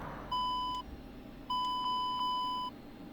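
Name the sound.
cockpit beeping in Aerofly FS2 flight simulator video game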